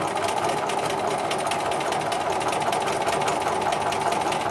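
A sewing machine quilting a straight vertical line of stitching runs at a fast, even clatter throughout, close and fairly loud, with no voice over it.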